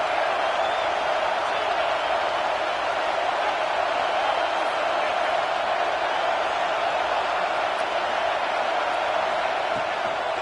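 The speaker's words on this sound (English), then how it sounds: "Decibels rising as the crowd gets behind this defense on 3rd down." Steady roar of a stadium crowd in the College Football 26 video game during an Arkansas vs Tennessee matchup, rising on a third-down defensive stand, a dense continuous wash of noise with no clear breaks.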